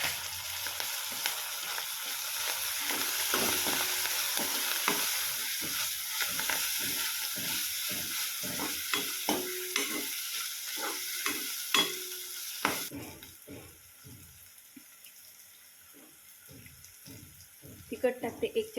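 Onion and tomato sizzle in a pan for a sweet corn bhaji, a steady frying hiss broken by repeated scraping stirs, then a quieter stretch with scattered clinks and stirring near the end.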